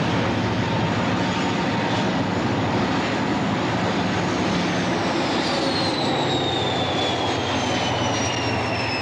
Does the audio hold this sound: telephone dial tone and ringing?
no